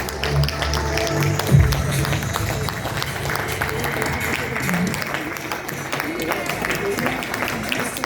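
Applause from an audience at an Indian leadership stage event, steady and continuous throughout, with a few low thuds and brief voices mixed into the crowd noise.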